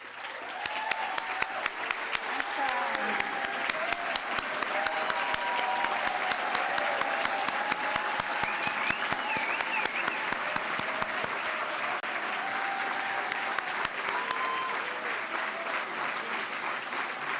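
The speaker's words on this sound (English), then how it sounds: "I ask you all to join me in applauding" Sustained applause from a standing audience of past and present staff at the East Bay Community Law Center Justice Awards, a steady dense patter of many hands clapping that holds throughout at moderate loudness.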